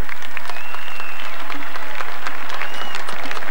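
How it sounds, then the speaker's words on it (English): A stadium crowd at McCool Park, Ballybofey, applauds at half-time of a 1984 Centenary Cup Gaelic football match between Donegal and Kerry, a broad continuous roar of clapping with faint whistles. "And a round of applause encircling McCool Park for a good first half performance by Donegal"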